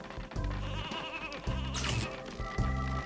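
Sheep bleat several times in the video game Space Station Silicon Valley. The short, wavering cries come in a loose rhythm over looping game music.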